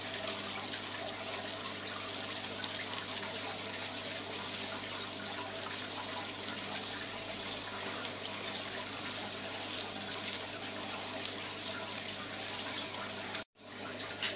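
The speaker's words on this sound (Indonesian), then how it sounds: "Kita aduk lagi. Aduk terus ya sampai merata." Salt water for an artemia culture is stirred continuously, a steady close watery swirl and slosh that runs evenly before a brief drop and a small bump near the end, with no talking.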